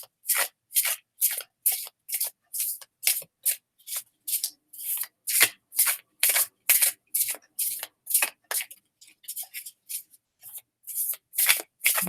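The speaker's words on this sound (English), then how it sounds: "you're seeing the shuffling in slow motion" Children of Litha tarot cards are shuffled in rapid, regular riffling bursts, each a short papery flutter with brief gaps between, close and clear against near silence.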